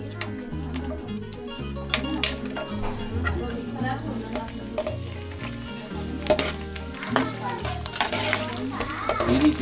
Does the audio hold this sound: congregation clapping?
no